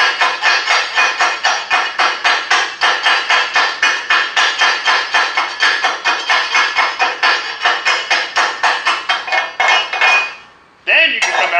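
Chipping hammer knocking slag off a fresh TIG weld from an AHP AlphaTIG 200X welder, a fast steady run of sharp metallic chinks, about four per second, close and loud for ten seconds before stopping abruptly.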